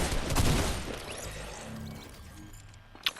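Gunfire in the video game Fortnite, a burst of shots up front fading into muffled in-game rumble, then a single sharp crack near the end.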